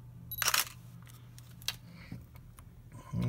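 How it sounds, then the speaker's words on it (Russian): A single-lens reflex camera shutter fires with a crisp mechanical clack near the mic, followed by a few faint clicks and handling noises in a quiet room. "Вот, как видите, срабатывает затвор и появляется снимок."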